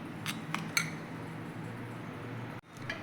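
A spoon mixes ground peanuts and turmeric for stuffed okra filling in a bowl, with a few sharp clinks near the start followed by soft, close scraping.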